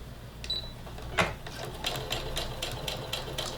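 A sewing machine stitches fabric for a face mask with a quick, even, mechanical clatter. The rhythmic needle bursts sound close and moderately loud, with a brief tone near the start.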